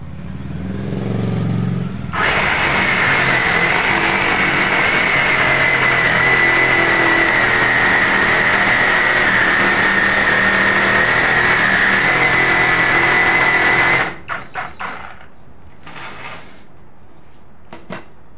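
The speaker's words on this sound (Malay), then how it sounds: "Untuk pemotongan yang pertama, kita test memotong kayu." A 20V cordless brushless reciprocating saw cuts through wood about 2 inches thick, a loud, steady buzzing whine that holds for roughly twelve seconds before stopping abruptly, followed by a few faint clunks.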